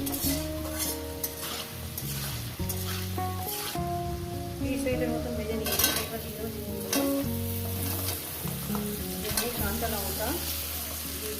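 Potatoes fry with turmeric in a pan while a dal is being made, giving a steady close sizzle with stirring scrapes and music playing throughout.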